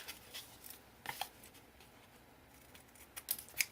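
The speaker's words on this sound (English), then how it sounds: "Okay, cut this one off here." Scissors snip through a strip of 12 x 12 craft paper for a small mini album, a few quiet crisp cuts and light paper rustles near the mic, with no talking.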